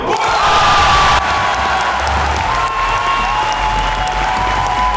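A crowd at a board game festival in Cannes breaks into loud, sustained applause and cheering, with whoops and shouts rising over steady clapping throughout.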